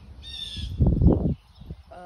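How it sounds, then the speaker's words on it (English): A bird's harsh, honking calls, crow-like or goose-like, sound loudly in a single short burst of about a second, close by, with a bit of background noise afterward. "Shut up, bird."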